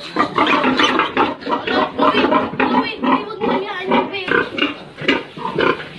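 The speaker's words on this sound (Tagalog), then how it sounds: "Hello, biik! 16 na biik." Sixteen newborn piglets squeal and grunt in a steady chorus of short, overlapping cries close by, with a few people talking underneath.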